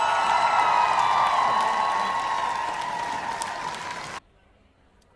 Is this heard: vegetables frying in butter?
no